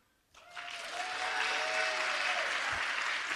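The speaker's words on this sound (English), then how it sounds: "Clap if you're talented." Audience clapping at an evening talk event, starting abruptly after a brief quiet moment and swelling into steady, full applause that holds to the end.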